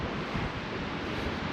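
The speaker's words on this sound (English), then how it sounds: "It's very windy" Strong wind buffets the microphone outdoors at Gettysburg, a dense, continuous roar with no breaks and no voices.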